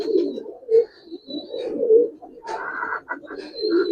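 Pigeons of the Giribaz coloring breed cooing continuously and close by, soft rolling coos repeating throughout, with a faint higher chirp now and then.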